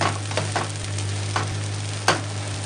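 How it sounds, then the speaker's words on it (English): A dosa sizzles steadily in a hot pan just after being flipped, a continuous frying hiss with a low steady hum underneath and a few soft scraping or tapping accents, fairly close. "Right, so let that cook underneath."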